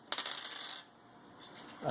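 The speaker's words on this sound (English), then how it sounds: "he's going to roll 3 dice" Three dice clatter onto a table during a Max Grit tabletop miniatures game, a quick burst of bright rattling clicks that dies away within a second, with a faint knock at the end.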